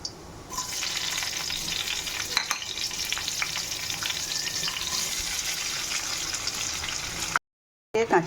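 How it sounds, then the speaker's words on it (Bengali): Green chillies and onion fry in a pan for tarka dal, a steady loud hiss and crackle close by with occasional stirring clatter, ending in a short silent gap before the sizzle resumes; no one speaks. "কাঁচা লঙ্কা পেঁয়াজ ভাজা ভাজা হয়ে গেছে"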